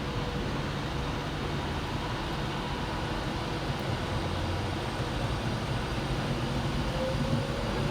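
An Avanti West Coast train, the London Euston to Manchester Piccadilly service, sounds at Stockport railway station as a steady, dense rumble and hum with a faint rising whine near the end and no voices.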